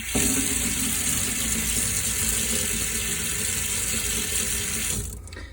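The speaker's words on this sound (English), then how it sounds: "the first thing we'll do is rinse out as much glue as we can" Water runs steadily from a sink tap while glue is rinsed out of a paintbrush, a loud continuous splashing stream that stops abruptly near the end.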